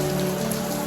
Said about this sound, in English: As you can see, it is raining a lot.